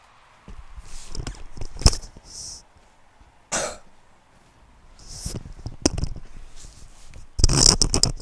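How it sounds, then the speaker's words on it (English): A man coughs and clears his throat in several harsh, separate bursts at close range, with pauses and some shuffling and scraping noises between them. "I'm just coughing"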